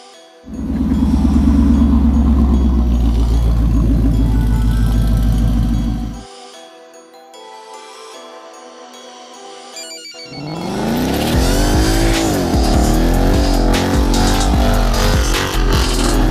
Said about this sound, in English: a line lock's a burnout